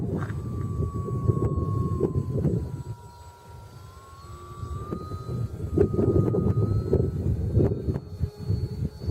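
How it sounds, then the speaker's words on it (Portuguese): Wind buffeting the microphone outdoors at a flying field during a first flight of a Reaktor model aircraft, a steady low rumble swelling and easing, with a faint high whine running through it. "Ah, o vento é muito ruim."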